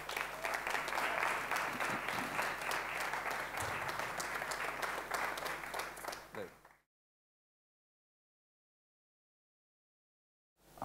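Audience applause welcoming songwriter Chris Difford to a songwriting masterclass, steady loud clapping for nearly seven seconds that fades out into silence.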